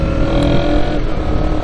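A 250cc motorcycle fitted with a quick-shifter roars close and loud, its engine note holding steady and strong as it shifts gear on a touring ride.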